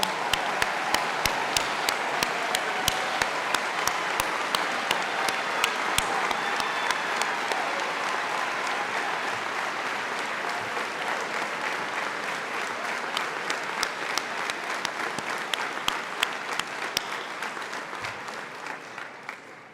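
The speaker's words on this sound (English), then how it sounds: "So we're going to applause" A graduation audience at a business school hooding ceremony applauds steadily and loudly for a long stretch, with dense, even clapping that slowly tapers toward the end.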